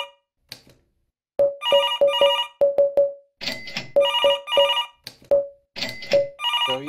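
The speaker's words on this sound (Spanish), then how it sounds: "¿Es un teléfono?" A telephone ringing in the office game Suits: A Business RPG: a loud, near electronic ring pattern of repeated sharp trilling bursts in quick groups, separated by short gaps, with no voices over it.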